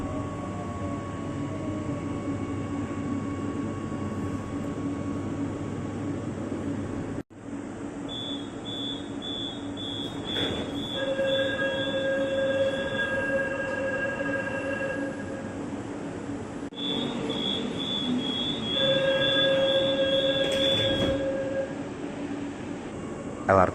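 An LRT Jakarta light rail train runs with a steady rumble of wheels and motor, with rising whining tones and chimes over it and brief quiet voices inside the car.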